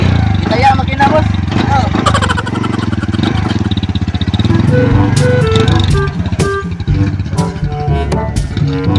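Motorcycle engine running loud and close in a rural coconut-grove setting, a steady mid-pitched drone with rising and falling revs, while people talk and shout over it.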